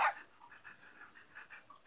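A virtual Labrador in the Nintendogs video game pants and makes soft short vocal sounds in a quick series of gentle puffs after an initial sharp burst, fairly quiet with no talking.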